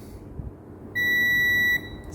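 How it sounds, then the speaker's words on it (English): A multimeter in continuity mode gives one steady electronic beep, just under a second long, while testing a vacuum cleaner fuse, heard close against a quiet room-tone background with no talking. "See, we have a beep here."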